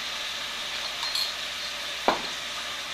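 Potatoes and cauliflower cooking in a pan, a steady close sizzle with a single sharp clink of a utensil against the pan partway through.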